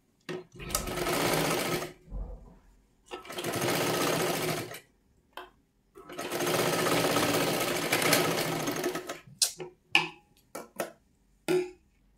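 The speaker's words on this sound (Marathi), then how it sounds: "आता ही थोडंसं असं फोल्ड करून घ्यायचं आहे आतमध्ये आणि हा भाग ह्याच्यावरती ठेवायचा आहे आणि शिलाई मारून घ्यायची आहे" A sewing machine stitches blouse fabric in close, loud whirring runs of a couple of seconds each, separated by pauses and followed by short bursts of stitching near the end.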